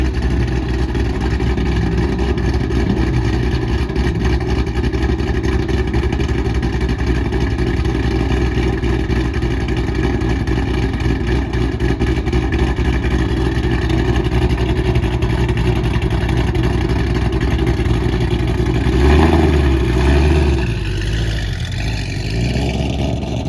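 Cammed Ford GT500 engine holds a loud, steady rumbling idle at the track before a launch attempt, with a brief rev swell near the end.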